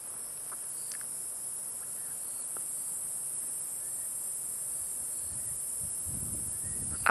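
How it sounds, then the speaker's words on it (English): Continuous high-pitched ringing of cicadas in a marula tree fills the air, steady and unbroken, with no voices. "you can hear those cicadas all sitting up in the marula tree above us."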